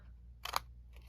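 Scissors snip into the corner of a cardboard craft box, a single short crisp cut close by with a faint second rustle after, over low background hum.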